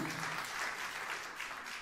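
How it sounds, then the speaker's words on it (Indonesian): Steady, enthusiastic applause from a church congregation, dense clapping filling the whole moment at an even, sustained level. "tepuk tangan yang meriah untuk kemuliaan Tuhan"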